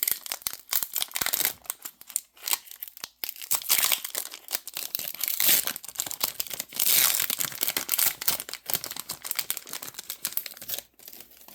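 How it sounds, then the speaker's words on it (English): An eight-card HRO DC Unlock the Multiverse Chapter 2 Black Adam trading card pack being torn open, close, loud crinkling and ripping foil with rapid crackles in bursts, no talking. "I'll open this last 8 card pack"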